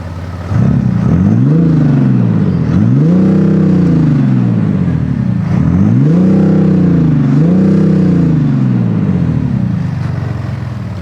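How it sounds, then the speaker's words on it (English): A BMW X7 M50d diesel engine is revved four times in succession, each throaty rise and fall loud and close, with the idle rumbling steadily between blips. "the engine sounds very, very throaty"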